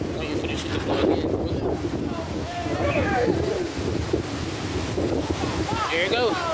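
Strong wind outdoors, gusting hard enough to bend trees, buffets the microphone in a continuous rumbling roar. Several faint voices and short chirping sounds come through beneath the blowing.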